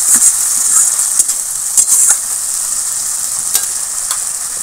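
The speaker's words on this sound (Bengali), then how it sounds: "লবণ, আলুর সঙ্গে মশলাটা কষাবো, তবে একটু ঢাকা দিয়ে দিয়ে কষাবো।" Spice paste fries with potatoes and salt in a pan, a steady soft sizzle with occasional stirring scrapes, close and moderately loud with no voices.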